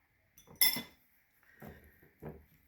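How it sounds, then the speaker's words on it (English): A fork clinks and taps against a bowl while mixing Creole shrimp deviled egg filling, with one sharp clink followed by two softer scraping taps, close and alone. "just going to clear off my fork here"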